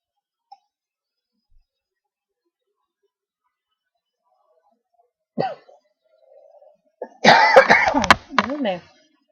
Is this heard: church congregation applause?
no